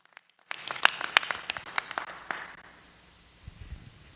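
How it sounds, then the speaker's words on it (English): An audience at a theological seminary graduation ceremony breaks into scattered hand clapping after a brief silence, loud at first and then thinning out and fading over a few seconds. "Why don't we give him a hand clap as he comes over?"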